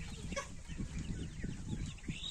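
Chickens, including bearded hens and crossbreeds of white Marans and a Leghorn rooster, cluck in low repeated bursts at close range, a constant flock murmur with a few higher calls over it.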